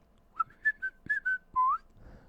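Referee whistle from a football match or FIFA game: several short shrill blasts followed by a longer falling-then-rising blast, clear and fairly close, with a soft murmur underneath and no talk.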